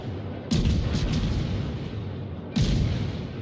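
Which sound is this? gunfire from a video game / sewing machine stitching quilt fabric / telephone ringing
gunfire from a video game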